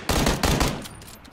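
Gunfire in the PUBG Battlegrounds video game: two loud sharp shots in quick succession, each followed by a ringing tail that fades out, with no talk over them.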